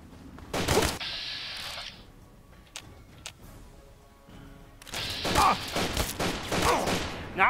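A kid fires a BB gun in a modded Fallout 3: a burst of sharp cracking shots near the start, then a quieter stretch with a few isolated ticks, then another dense volley of rapid pops toward the end.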